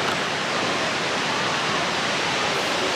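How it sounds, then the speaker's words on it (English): A waterfall roars in a steady, dense rush of falling water, close and loud with no break, filling the scene on a walk to a set of three falls in Izu, Japan. "we're going to go to 3 waterfalls"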